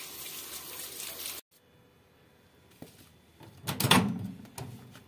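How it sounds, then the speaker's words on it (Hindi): Tap water runs into a kitchen sink as tomatoes are washed in a Pakistani home kitchen: a steady splashing rush that cuts off, then returns with stronger splashes and clatter nearby. "टमाटर धो लूँगी"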